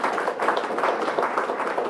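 An audience at a speech about turning a national school into a digital academy breaks into brief, steady applause, a dense patter of many hands clapping together.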